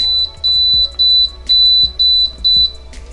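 An Emeril Pressure Air Fryer Duet control panel beeps repeatedly as the temperature is raised to 400 degrees Fahrenheit, sharp high-pitched tones in rapid pulses, close and loud, with faint clicks between them.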